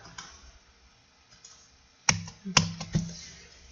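Typing on a computer keyboard while writing Java GUI code, a few faint clicks followed by a cluster of sharp, close keystrokes in quick succession.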